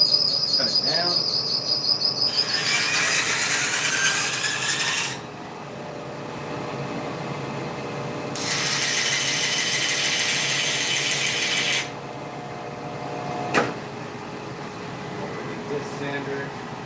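Two loud bursts of a power tool cutting out a guitar horn nut, each running several seconds with a pause between, over a steady background of chirping insects.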